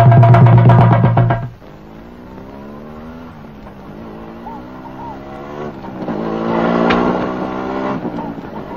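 A motorbike passes close by with a loud, rising engine drone for about a second and a half, then drops away to a softer, steady engine hum that swells slightly again near the end.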